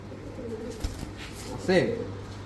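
Pigeons coo close by in a short, soft burst, with a clearer rolling call near the end, set against a low steady hum while people talk in the background.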